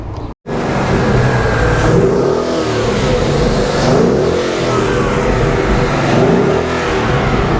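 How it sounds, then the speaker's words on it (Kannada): A custom Ford Mustang with a 5-litre V8 petrol engine revs loudly and steadily at close range, holding a dense roar after a brief cut at the start, with no talking. "ಇದೆ V8 ಇಂಜಿನು. 5 ಲೀಟರ್ ಪೆಟ್ರೋಲ್ನ ಡಿಸ್ಪ್ಲೇಸ್ಮೆಂಟ್ ಮಾಡೋ ಒಂದು ಇಂಜಿನ್ ಕೆಪಾಸಿಟಿ"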